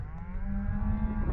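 Cattle lowing during a fall roundup on open hill country north of Reno, Nevada: one sustained, steady moo held across the whole moment, fairly close and clear over a low background rumble.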